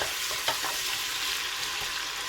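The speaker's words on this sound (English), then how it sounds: "I will fry it a little bit before I can add my blended tomatoes." Spinach soup base (efo riro) frying in a pot with a steady, close sizzle, stirred briefly now and then, with no voices.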